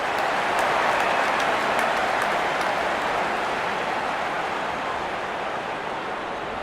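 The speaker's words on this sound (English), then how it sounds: "There's such a wonderful crowd in to watch their favorite players." A large cricket stadium crowd at a Pakistan vs Bangladesh match roars in a dense, sustained wash of cheering that stays loud and fairly even throughout, with no talk over it.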